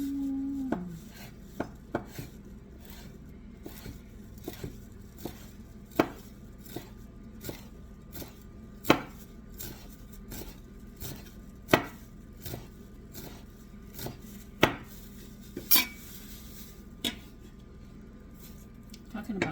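A knife chops leek on a cutting board, a long run of crisp, irregular taps, some louder thuds, close and fairly quiet with a low kitchen background.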